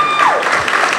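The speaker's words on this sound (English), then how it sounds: "Come on, clap it up for them." Applause from the audience at a Ms. Blind Diva Empowerment Pageant, a dense, steady burst of clapping throughout the short moment with some crowd noise mixed in.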